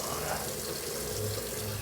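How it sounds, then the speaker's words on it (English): Running tap water pours steadily into a sink as hands are washed beneath it, a short, continuous close-up splash at moderate level. "washing the old hands off"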